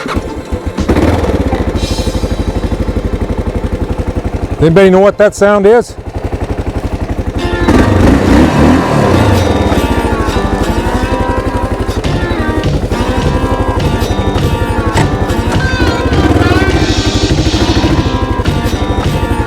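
A Kawasaki KLR motorcycle engine runs loudly and close throughout, with a brief sharp rev in the middle, while someone talks over it.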